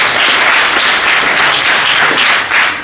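Audience in a hall applauding local entrepreneurs at a business program event, a dense, loud, steady burst of many hands clapping with no voices on top.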